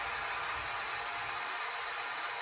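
A special-type home rice cooker runs loudly while dinner is made, giving a constant close hissing whir that stays even and unbroken throughout with no speech.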